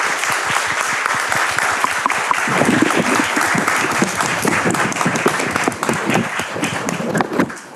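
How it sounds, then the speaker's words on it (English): An audience at an arts, culture and health event breaks into sustained applause, a dense, loud wash of many hands clapping that carries on for several seconds. "Give big applause."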